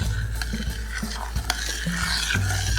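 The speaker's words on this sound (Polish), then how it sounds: "Mieszamy do rozpuszczenia cukier." Sugar is stirred into about 240 ml of water to dissolve it during a children's workshop, a utensil scraping and clinking steadily against the container, with a low background hum and brief faint tones.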